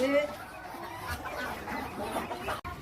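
Backyard hens and roosters cluck in short, scattered bursts nearby while people talk over them.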